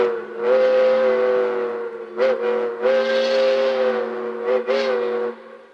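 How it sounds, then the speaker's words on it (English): A train engine pulling onto the main track sounds a loud, sustained horn in several long blasts with brief breaks between them, close by and alone. "Listen to the sound of this engine."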